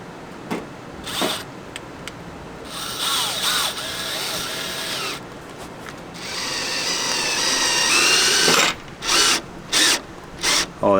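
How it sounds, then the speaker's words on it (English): A power drill with a Phillips bit drives a screw through a damaged RV panel on a towable trailer, whirring in sustained bursts that build toward the end, ending in several short separate pulses, close up with no talk. "I'll put my Phillips in here, and then I'll put that screw through"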